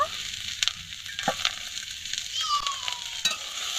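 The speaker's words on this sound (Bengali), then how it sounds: "সর্ষে পাতার যে রসটা থাকে সেটাকে ভালোভাবে শুকিয়ে নিতে হবে ঠিক এইভাবে" Drumstick leaves frying in a pan crackle and sizzle steadily up close, with sharp pops and clicks from a utensil scraping through them and no speech.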